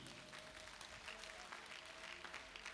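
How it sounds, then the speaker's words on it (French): A church congregation at a seminar applauds for the Lord Jesus, faint continuous clapping from a crowd heard at a distance with a steady, even texture. "Applaudissons pour le Seigneur Jésus."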